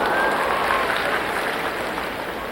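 Crowd applauding steadily at a 1990 Chunichi Cup gymnastics meet during a high bar routine with Kovacs and Ginger releases, a dense, sustained wash of clapping that fades slightly toward the end.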